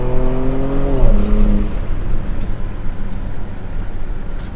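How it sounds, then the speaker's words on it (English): A 2024 Ford Ranger Raptor's exhaust roars loud and close as the pickup revs and shifts on a Wyoming dirt road, with the engine note climbing and then dropping into a steady rumble mixed with road and tyre noise. "Just listen to that exhaust."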